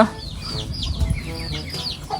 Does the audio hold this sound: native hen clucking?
yes